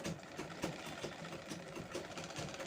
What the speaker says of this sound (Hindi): 2 साइड से हम सिलाई लगा देंगे